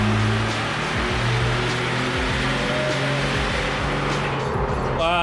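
A Jeep Wrangler JK engine pulls on a dyno in second gear, a loud broadband roar with shifting low tones and rising pitch, close and continuous, ending in a brief higher whine.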